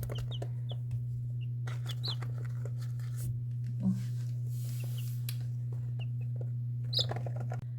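Scattered soft clucks and chirps from chicks feeding, over a steady low electrical hum, with occasional brief pecking and rustling sounds.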